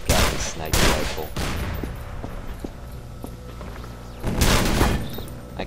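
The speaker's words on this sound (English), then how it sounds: "I can't even get past to see what's beyond over there because of a stupid machine gun turret." Heavy automatic gunfire from a machine gun turret in the E.Y.E. video game, with loud bursts at the start and again near the end, separated by quieter clanks and scattered game noise.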